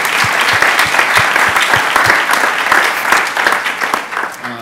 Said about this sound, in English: So just give yourselves a round of applause for being here today.